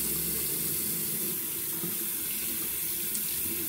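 Water runs steadily from a tap into a sink, a constant close hiss and splash with no pauses and no voices.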